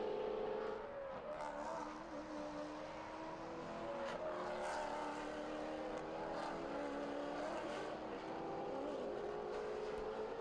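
Maserati Trofeo race cars from the 2015 season at the Red Bull Ring, engines droning and rising and falling at a distance as they lap, a continuous faint roar with no voices over it.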